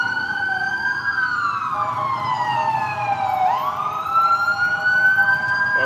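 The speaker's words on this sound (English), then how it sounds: "the sirens are gonna come in quite fierce." Several emergency sirens wail loudly and close, their pitches sweeping up and down and overlapping, with steady traffic noise underneath.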